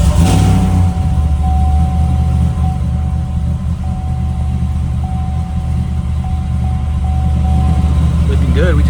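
A supercharged Sierra race truck engine idles loud and close with a deep, steady rumble after a brief rev at the start, running evenly throughout as a faint tone whines above it.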